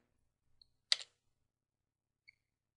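The enter key on a computer keyboard is struck once, giving a single crisp, close click in near silence, with a couple of faint tiny taps around it.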